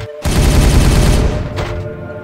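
Heavy automatic gunfire in the video game Regicide, a sudden loud burst of rapid rattling shots that starts after a brief pause, holds for over a second, then tapers off.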